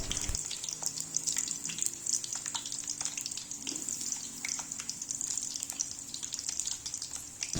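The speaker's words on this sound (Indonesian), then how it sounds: "kemudian kita goreng di minyak yang panas" Steady hiss and crackle of unripe kepok bananas frying in hot oil, continuous and fairly close, with no talking.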